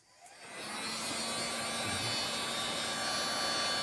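A heat gun switches on and blows with a steady whooshing hiss while warming a vintage 8-track tape cartridge, fairly quiet and constant at close range with no talk.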